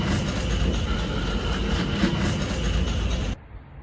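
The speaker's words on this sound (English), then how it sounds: "Okay, there's a train coming now" A train rolls into an empty station with a steady, loud rumble and rail clatter that carries on for several seconds and then cuts off suddenly.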